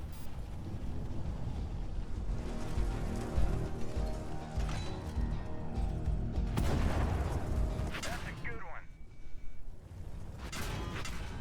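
Enemy tanks fire at the player in the game Steel Hunter, a dense, loud stretch of booming gunfire and rumbling engine noise with bursts of impact, including a heavy blast near the middle, under occasional talk.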